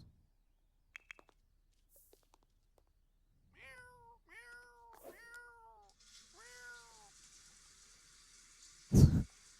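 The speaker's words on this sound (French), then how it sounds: "Avec le chat au pied de la douche." A cat in a video game meows four times in a row, clear and close, after a few faint clicks, followed by a soft watery hiss and a sudden loud thump at the end.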